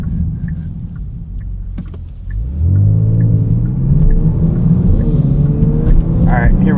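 A 2024 Genesis G70 AWD 3.3T Sport Prestige pulls away in second gear in manual mode, its engine drone rising steadily in pitch and loudness inside the cabin after a brief lull.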